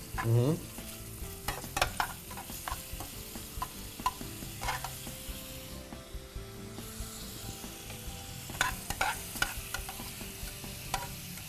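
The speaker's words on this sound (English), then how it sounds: "Let the shrimp cook first." Shrimp and prosciutto fry in a pan with salt and pepper, a steady sizzle running throughout under repeated scraping and stirring strokes, close and moderately loud.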